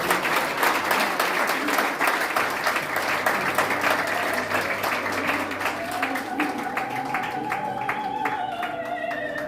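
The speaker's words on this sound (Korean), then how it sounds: "박수로 맞아주시고" Audience applauding at a Korea–Israel summit forum to welcome a CBN Israel bureau chief, dense and steady throughout with a faint voice speaking over it near the end.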